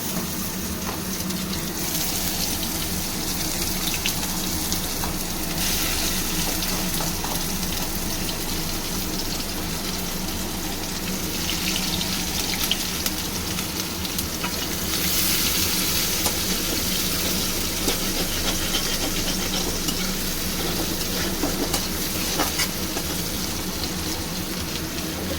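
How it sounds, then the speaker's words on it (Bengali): Chopped onion and green chilli frying in hot oil with cumin seeds in a pan, giving a steady, continuous close sizzle with a soft crackle throughout and no talking. "পেঁয়াজটা আমি খুব ভালো করে ভাজবো"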